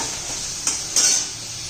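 Tomatoes sautéing in a pan for a ridge gourd dish, a steady soft sizzle with two brief louder scrapes of stirring, close up and with no voices.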